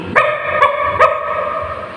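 A storyteller's voice imitates a dog barking, giving three short, loud, evenly spaced yips close to the listener, followed by a brief quiet tail.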